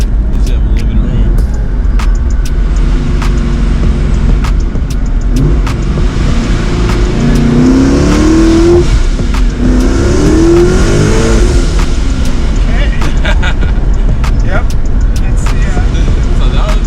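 A 1000-horsepower Ford Mustang accelerates hard on the street, its engine note rising and falling loudly through the run, with people talking over the sound throughout.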